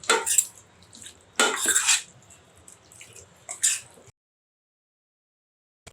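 Metal utensils clatter and scrape against a bowl of marinated chicken in three short bursts, close and sharp, followed by silence.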